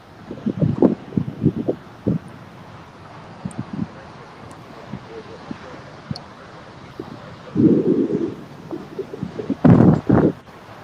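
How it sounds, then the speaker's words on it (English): Gusts of wind buffet an outdoor microphone near LAX airport, with low rumbling bursts around the start and heavier blasts near the end, loud and close over steady background noise. "Sounds like it's really windy over there, Rudy."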